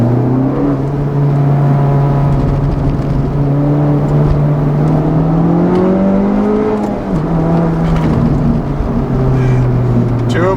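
2019 Honda Civic Type R with a Borla exhaust drones loudly from inside the cabin, the engine note rising and falling through gear changes while cornering, with occasional speech over it.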